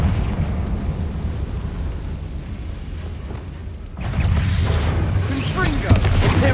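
A fire-spell explosion from a fantasy video game, a sudden loud roaring blast that swells out of a steady rumbling background and keeps crackling with a sharp pop near the end, a voice speaking under it.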